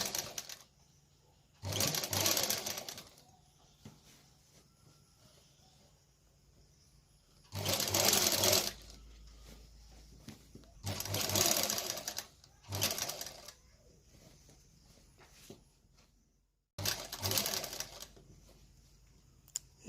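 A sewing machine runs in several short bursts of rapid stitching along a kameez seam, with quiet pauses between runs.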